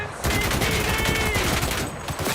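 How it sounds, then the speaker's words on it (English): A light machine gun fires in Cyberpunk 2077, a dense, loud, rapid burst of shots rattling continuously for a couple of seconds. "Get the light machine gun out."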